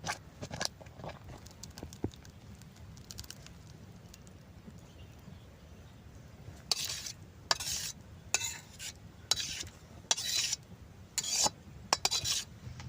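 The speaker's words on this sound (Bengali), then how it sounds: "দেখেন আমটাকে সুন্দর ছিটাইতেছে" Pulp from raw green mango boils in a pot, first with a faint quiet bubbling, then with irregular bursts of sharp sputtering pops and spatters that grow frequent in the second half.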